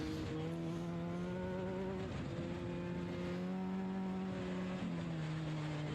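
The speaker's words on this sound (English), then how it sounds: "Yeah, you can hear that engine." Class 10 off-road race car engine during the Vegas to Reno desert race, a steady droning engine tone with shifting pitch that dips briefly around gear changes, heard at a distance over constant wind and background noise throughout.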